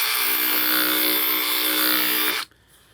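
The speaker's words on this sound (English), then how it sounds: "Another thing I use it for is sanding end grains." A DeWalt 18-inch cordless band file whirs steadily while sanding wood end grain, a loud continuous high buzz with a gritty abrasive hiss that cuts off abruptly near the end, leaving quiet.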